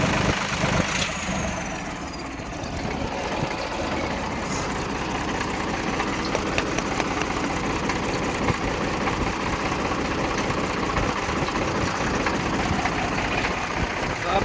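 A Mahindra 295 DI tractor engine idles in a steady, continuous low chugging drone close by that never changes or stops, with no talk over it.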